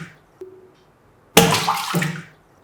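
A Xiaomi 11i Hypercharge smartphone plunges into water during a waterproof test, a sudden sharp splash followed by a brief burst of churning, sloshing water that fades, after a small faint drip before it.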